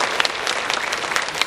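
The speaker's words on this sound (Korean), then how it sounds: "주님께 감사의 박수." Church congregation clapping together in thanks to God during a year-end worship service, a dense, loud burst of many hands, close and continuous without speech.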